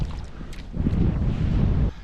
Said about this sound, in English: Even though the wind can be a bit annoying, it's nice coming this way.